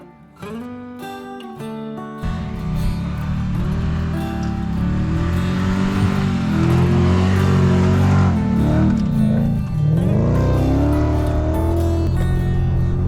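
A Toyota Land Cruiser 4WD climbs a steep sandy track, its engine rising from idle into a loud, sustained labouring roar with shifting revs and a brief dip near the end, close and unbroken, without speech.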